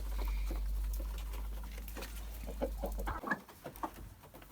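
Leghorn and Bielefelder chickens peck fresh feed in quick, irregular taps with soft clucks nearby, after a low steady hum cuts out.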